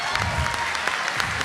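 Residents at a Goochland community meeting clap for a man in a bow tie, a short burst of scattered hands with a low murmur of voices beneath.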